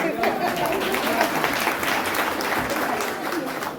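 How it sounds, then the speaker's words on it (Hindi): At an International Women's Day event in the collectorate auditorium in Etah, an audience breaks into sustained applause, loud and continuous throughout, with a voice faintly audible beneath it. "इतना सुंदर बोला, तालियां।"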